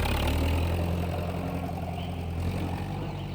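Tractor engine sound effect in a farmyard story reading, a steady low idling rumble with a faint knocking pulse, close and even throughout with no voices.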